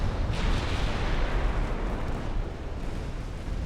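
A warship fires a torpedo volley in Ultimate Admiral: Dreadnoughts, a dense, loud, rumbling roar of launches and booms that continues steadily throughout.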